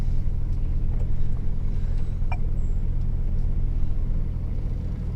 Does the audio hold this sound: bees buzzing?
no